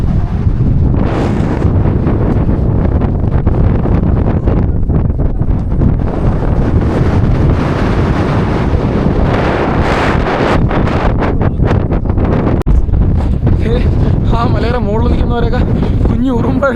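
Strong wind on a mountain top buffets the microphone in loud, continuous gusts that roar and rumble, with people talking intermittently beneath it.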